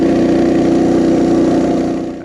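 Small engine on a Coleman BT200X mini bike, fitted with richer jets, revving hard and steady while riding, a loud continuous buzzing drone that holds high then eases off slightly at the end.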